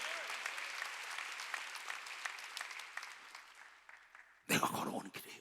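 A church congregation claps during a Wednesday worship service, a steady wash of clapping that fades and then gives way to a loud voice near the end.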